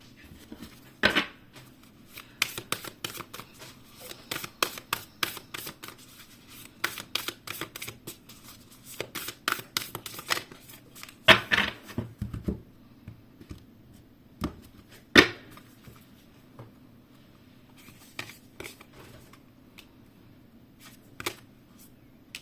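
Oracle cards being shuffled by hand, a series of crisp riffling and tapping bursts at irregular intervals, close and fairly quiet, alone without talking.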